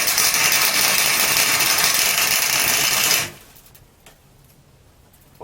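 A welder laying a tack weld on thick scrap metal while building a wheelbarrow, set fairly hot: a loud, steady crackling hiss runs for about three seconds, then cuts off into near silence.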